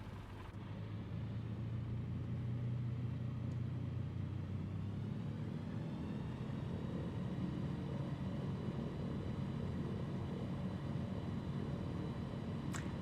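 Airplane taking off in Microsoft Flight Simulator 2024 on PS5 Pro: a steady engine roar builds into a sustained loud rumble with rising whine, continuous and near throughout, without talk.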